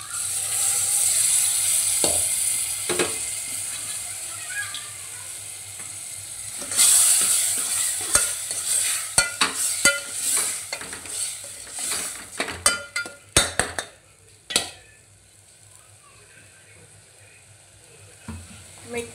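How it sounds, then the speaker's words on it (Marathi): Sprouted moth beans (matki) sizzle and fry in a hot pan with masala, a steady crackling hiss broken by scraping stirs and clatters, then quieting toward the end. "आणि मोड आलेली मटकी आपली टाकायची."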